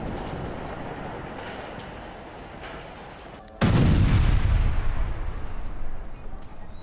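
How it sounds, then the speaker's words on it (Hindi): Bombardment in the Sheikh Radwan area of Gaza: a dull rumbling backdrop is broken by a sudden loud, close explosion whose heavy roar lingers and slowly decays. "शेख रदवान इलाके में इजराइल की बमबारी, हमास के सर्विलांस सेंटर को तबाह कर रहा है इजराइल"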